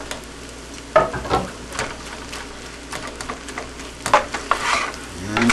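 Four-meat fried rice with egg being stir-fried in a pan, with intermittent scraping stirs and bursts of sizzle over a low steady hiss, moderately close.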